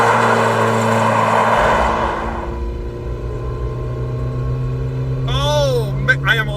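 A Yugo car's engine drones steadily at close range while being driven, a constant low hum with a brief louder stretch early on, and a voice speaks briefly near the end.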